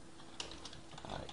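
Quiet, close keystrokes on a computer keyboard as a password is entered, a brief run of soft clicks with no voices.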